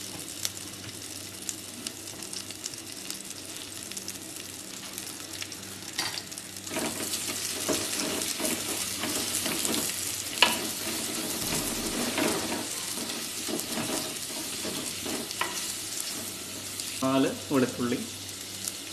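Sliced onions sizzle steadily in a hot pan for a Kerala-style squid roast, frying close up with stirring and scraping growing busier partway through and a few sharper clatters near the end.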